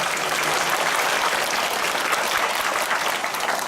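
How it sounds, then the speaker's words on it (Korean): Loud, sustained applause from a church congregation during a Sunday service at Gangbuk Central Church, one continuous wash of clapping with no speech. "주님께 우리 감사의 박수를 한번 올려드립니다"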